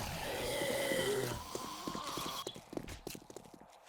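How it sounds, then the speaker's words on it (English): Zombie footsteps in the video game 7 Days to Die, a series of soft thudding steps in an uneven rhythm that follows a fading low drone. "I hear footsteps already."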